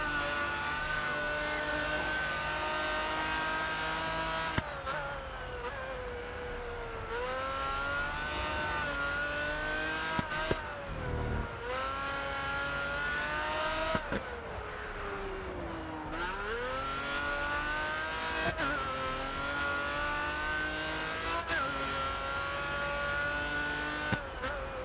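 A Pagani Zonda race car engine in the racing game Grid Autosport drones and revs steadily, with pitch climbing and dropping through gear changes and braking, loud and continuous with no talking.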